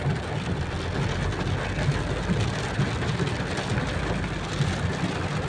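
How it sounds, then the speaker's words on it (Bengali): Rain pattering on a car as it drives through a downpour, a steady broadband wash with a low road and engine rumble underneath, continuous and fairly close with no voices. "দেখেন লুকিং গ্লাসে তো কিছুই বোঝা যায় না বৃষ্টি পড়ে পড়ে।"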